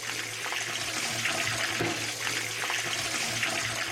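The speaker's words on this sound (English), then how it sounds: "Taking on water." Water rushes steadily into a submarine taking on water, a continuous loud hissing, splashing flow with faint dripping and creaks close by, no voices.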